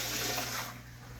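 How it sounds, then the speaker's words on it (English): Tap water gushes steadily into a cooking pot, loud and close, then eases slightly as it keeps running, with no talk. "And also I need some water in this pot"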